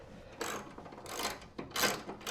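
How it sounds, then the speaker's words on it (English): A ratchet loosens a nut and bolt on a Honda snowblower during teardown, giving three rapid clicking bursts with short pauses between them, close and fairly quiet. "ratchet this off"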